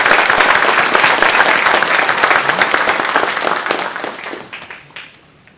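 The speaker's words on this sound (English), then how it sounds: "Let's have a round of applause of gratitude for our faculty." Audience applause for faculty at a graduation commencement ceremony, a dense, loud wash of clapping that holds steady and then thins and fades out over the final second.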